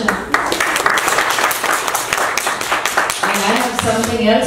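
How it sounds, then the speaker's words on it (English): Audience applause at an Asian media awards ceremony in New Jersey, a mix of many hands clapping with individual claps standing out, while a voice carries on speaking over it. "So, round of applause for him,"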